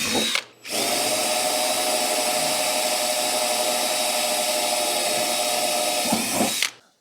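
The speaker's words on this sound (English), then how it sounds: "I'm gonna have to drill 1/4-inch holes through my seat" Power drill boring 1/4-inch holes through a go-kart seat, one continuous, loud, close whine lasting about six seconds after a brief start, then stopping abruptly.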